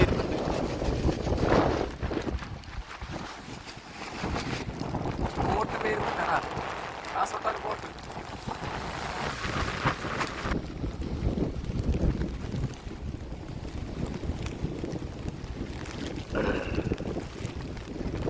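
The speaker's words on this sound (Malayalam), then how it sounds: "ബോട്ട് വരുന്നുണ്ട്" Boat noise on open water, with wind buffeting the microphone and splashing; a voice speaks intermittently over the churning sound.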